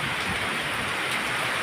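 Heavy rain and wind from Super Typhoon Pepito make a steady, dense hiss of downpour, constant and fairly loud throughout with no voices.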